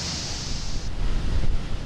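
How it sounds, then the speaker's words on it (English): Water deluge test at a rocket launch pad's sound suppression system, a continuous loud roaring rush of water with a blustery, wind-like texture and no voices. "The water deluge test confirms the correct operation of the ignition overpressure and sound suppression system"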